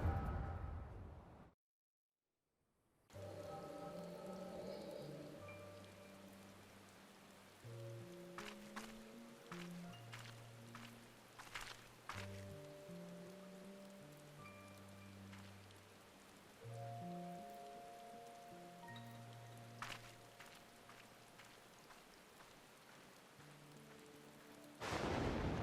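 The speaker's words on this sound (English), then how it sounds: "Wayward bolt of lightning, apparently." Rain falling steadily in Final Fantasy XIV, with sharp cracks of thunder or lightning strikes breaking through, set under a game music score of low melodic notes; a brief silent gap early on.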